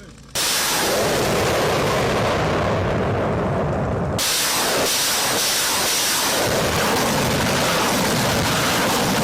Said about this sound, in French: L'artillerie est mise à contribution et la base est détruite depuis des kilomètres.